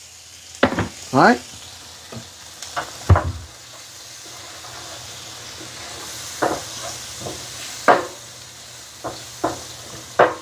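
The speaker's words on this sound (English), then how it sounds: "we're going to let that saute up, soften up slowly" Food sautéing in a pan with chicken base and white pepper, a steady low sizzle with a few louder scraping stirs. Someone speaks briefly over it.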